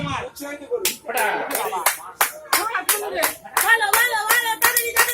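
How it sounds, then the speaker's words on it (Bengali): Several people clap hands in quick uneven bursts during a Durga Puja candle-lighting contest, close and loud, with a voice speaking in between and over the applause. "হাততালি দাও সবাই।"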